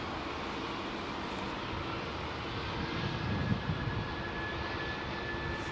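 Jet airliners arriving and departing at London Heathrow Airport, a steady broad roar of engines with a swell in the middle, heard close by outdoors with no talk.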